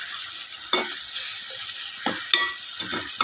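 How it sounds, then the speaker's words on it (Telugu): Onions and green chillies sizzle in a hot pan, with a spatula scraping and stirring in occasional strokes over the steady frying hiss. "మరిన్ని ఉల్లిపాయలు, పచ్చిమిరపకాయలు వేసుకొని వేపుకోవాలి"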